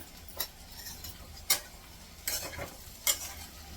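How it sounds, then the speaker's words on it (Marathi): Okra frying in a wok with kokum and spices, stirred with four sharp scraping strokes spaced about a second apart over a low, steady sizzle, close and alone with no talk. "एक मिनिटभर असं कढईमध्ये राहू देणार आहे मिक्स करून अशी राहू देते"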